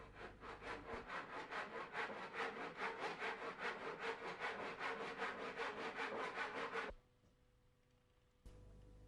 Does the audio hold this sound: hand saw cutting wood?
yes